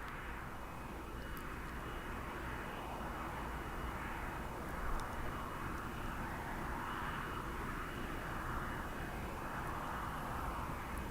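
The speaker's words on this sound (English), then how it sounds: "The flight crew aboard the shuttle carrier aircraft is making final preparations to disembark." The engines of NASA's Shuttle Carrier Aircraft hum steadily at a distance, a faint continuous jet drone with a slowly pulsing whine on top.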